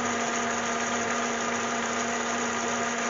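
A 3.6-liter Cadillac CTS V6 runs at idle after an alternator replacement, a constant close-up mechanical hum with a faint steady whine and no one speaking.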